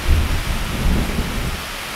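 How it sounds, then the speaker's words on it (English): A UK thunderstorm with heavy rain pours steadily, a dense constant wash of rainfall over low rumbling thunder, loud and continuous throughout. "It's absolutely throwing it down with rain at the moment."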